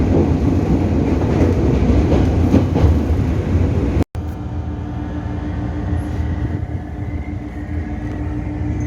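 Electric commuter train ride in Jakarta: steady loud rumble and rattling of the carriage running along the rails, with a brief dropout midway, then continuing quieter with a faint tonal hum.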